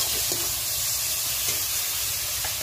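Spices with salt and turmeric being stirred in a hot frying pan for a jackfruit and prawn curry, a steady close sizzle with faint scraping strokes running throughout.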